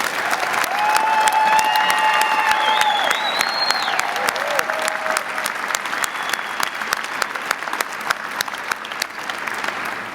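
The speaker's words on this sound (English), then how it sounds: "Please join me in giving them all a round of applause." A graduate commencement crowd applauds steadily for several seconds, the clapping dense and sustained, with a few whistles and cheers rising above it.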